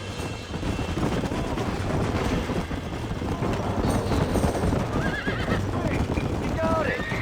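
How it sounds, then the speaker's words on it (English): In a Red Dead Redemption game scene, a wild horse whinnies loudly several times over continuous galloping hoofbeats, with game music and voices talking throughout. "Use the lasso to capture a wild horse."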